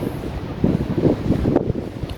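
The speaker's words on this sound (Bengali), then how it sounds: "আজকে প্রচণ্ড বাতাস শীত" Gusty wind rumbles and buffets loudly against the microphone, surging in waves over a couple of seconds.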